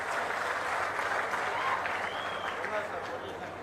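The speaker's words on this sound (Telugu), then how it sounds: "బాగా చేసిన దానికి మాత్రం చప్పట్లు కొట్టి అభినందించండి" An audience at a public event for a state cleanliness programme gives a sustained round of clapping, a dense crackle of many hands that holds steady and then eases slightly toward the end.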